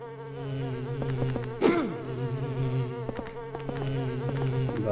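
A mosquito-like insect creature in Silent Hill 4 drones with a loud, close, whining buzz that holds steady throughout, with one sharp swooping hit near the start and scattered impact ticks.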